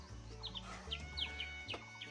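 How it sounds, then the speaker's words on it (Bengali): Faint bird chirps and tweets repeat in the distance at dawn in Ekhaintong Valley, Bandarban, Bangladesh, over a low steady rumble, with an occasional soft cluck. "চারপাশে পাখির মৃদুল কলকলে ধ্বনি"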